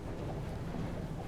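Strong wind blowing over a sailboat on open water, a steady, close, broadband rush and buffeting with no gaps and no voices.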